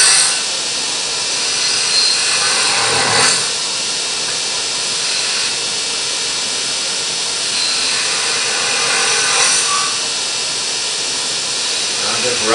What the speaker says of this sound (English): I'm just roughing some of the stock out of the way.